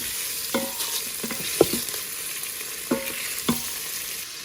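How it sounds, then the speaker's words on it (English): Sausage meat browns in an Instant Pot, a steady sizzle broken by a few sharp scrapes and clinks of a utensil against the pot, close and fairly quiet with no talking. "You can see the sausage meat is nicely getting browned here."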